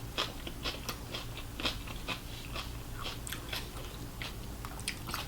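Close, crisp crunching and wet chewing of sweet bell peppers coated in sauce during a seafood boil mukbang, a steady run of bites and chews with no talking.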